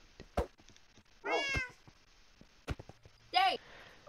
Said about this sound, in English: Kamori's cat!